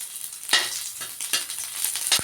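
Onion sizzles in a little frying oil at the start of a vegetable dish, a bright continuous crackling hiss close by, broken by a few louder bursts of spattering and a brief utensil knock.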